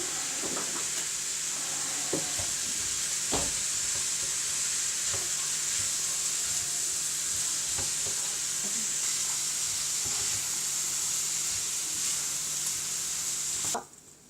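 Mesemen filling, with spices and pepper, fries in a pan under a steady bright sizzle while a utensil stirs it, scraping softly with occasional light knocks, close and continuous, without any talking.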